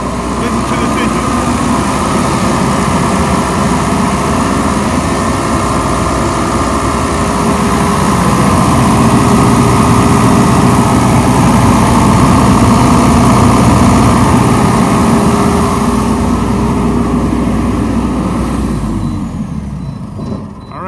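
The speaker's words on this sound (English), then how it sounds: "Listen to this engine." A Baldor TS80 generator's engine drones steadily and loudly at a constant pitch, then winds down near the end as it shuts off.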